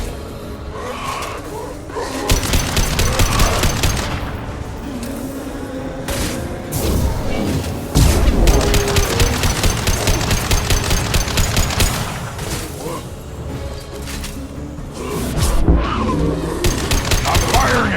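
Rapid automatic gunfire and bursts of shots in a video game, loud and close, with sharp impacts and crashing sounds over an ongoing musical and ambient bed, continuing in waves across the whole stretch.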